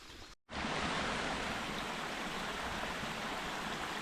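A rain-swollen stream on the Appalachian Trail in Pennsylvania rushes in a steady, loud, broadband wash after a brief dip at the start, with no voices.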